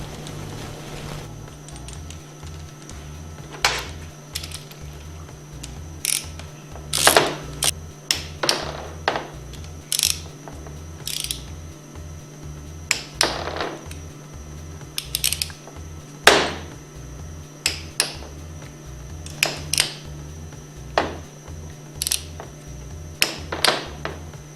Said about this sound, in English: Reinstall the Allen bolts. Torque to 170 inch-pounds.